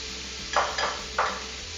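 Celery and red and green peppers drop into a hot pot for a seafood stew, and three bursts of sizzling rise over a steady background hiss of frying, close and fairly loud, with no voices.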